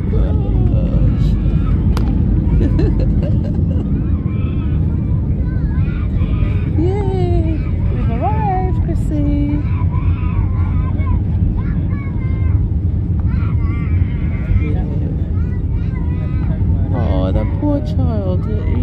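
Airbus A319 EasyJet airliner touching down at Reus Airport in Spain, a loud continuous cabin roar of engines and rolling wheels heard from inside, with voices and a crying baby over it.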